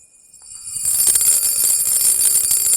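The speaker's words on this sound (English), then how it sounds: "So what makes this one so loud, it is a vibration alarm." Vibration alarm going off on a titanium Jaeger-LeCoultre alarm wristwatch, a loud sustained buzzing ring that starts after a near-silent half second and holds steady to the end, heard close up with no talking.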